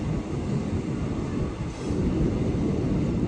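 A Lucknow Intercity SF Express train rolls through platform 3 at Zafarabad Junction: a steady, loud, close rumble of wheels and carriage noise with no pauses and no talking.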